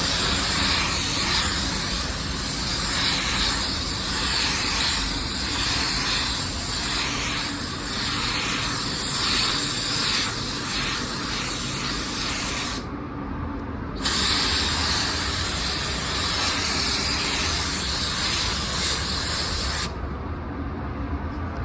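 A paint spray gun lays a second wet coat on a car body panel, a loud continuous airy hiss running steadily for the whole stretch and cutting off briefly twice between passes.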